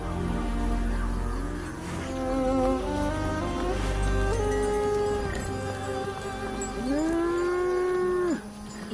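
Bulls and buffaloes low again and again nearby, long drawn-out moos that overlap and rise and fall in pitch over a steady rural background, loud and close with no talk.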